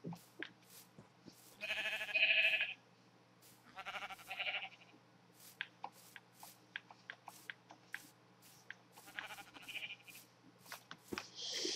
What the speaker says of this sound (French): sheep everywhere, il y a des moutons partout